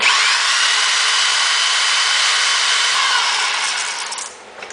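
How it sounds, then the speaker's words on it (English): A power drill grinds and screeches steadily as it bores a hole through a greased Chevy 10/12 bolt rear end housing, loud and close, then the tone drops and falters near the end. "Try to drill it straight as you can."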